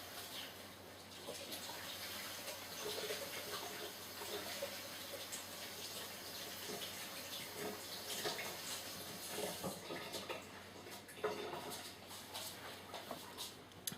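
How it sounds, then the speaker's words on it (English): Felted soap rinsed under a running cold-water tap, a steady close splashing gush of water that continues for the whole stretch with small shifts as the soap is rubbed beneath the stream. "The last thing that I will do is give it a rinse in cold water under the tap."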